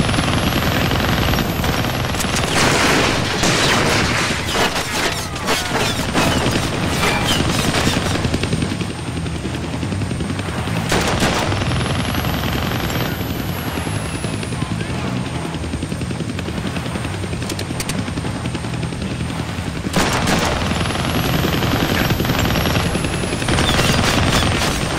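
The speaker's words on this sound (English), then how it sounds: "I can't kill that chopper with my guns," Helicopter and gunfire in the Deadpool video game: a loud, continuous rotor drone with rapid bursts of automatic gunfire and repeated rising whines, sustained for the full stretch without talk.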